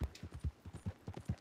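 Horse hooves clop in a quick galloping rhythm as a rider travels in Red Dead Redemption 2, a faint, evenly spaced series of about a dozen soft thuds.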